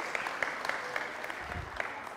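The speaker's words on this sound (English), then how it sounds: "We're clapping for you." A church congregation at Sunday worship claps for the children, with soft, steady applause and a few sharper individual claps, heard from a little distance.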